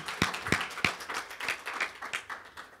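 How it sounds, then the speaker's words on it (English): Conference audience applauding a speaker, a close burst of distinct, fairly sparse hand claps that stays steady for a few seconds, moderately loud, with no talk over it. "Let's give her a hand of applause."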